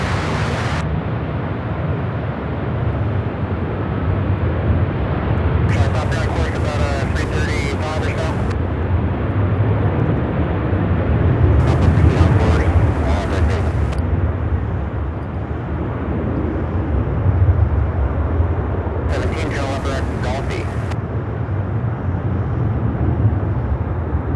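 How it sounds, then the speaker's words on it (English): Airbus A321 jet bound for Cancun taking off at Charlotte Douglas airport, a steady loud roar of engines sustained throughout, with people talking intermittently over it. "A321 heading to Cancun."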